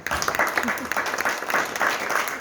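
Audience at a women writers' association event in Laayoune applauds a national team, a short burst of dense clapping with rhythmic accents, mixed with some crowd voices.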